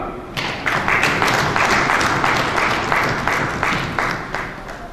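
Banquet audience at a district convention applauds an introduced guest, a full room of clapping that swells in after a brief pause, loud and steady with rhythmic pulses throughout, fading slightly at the end.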